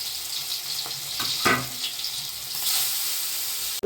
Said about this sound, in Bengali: এগুলো সুন্দর করে ভেজে নেব, জোর আঁচে করে সুন্দর করে ভেজে নেব, লাল লাল করে ভাজবো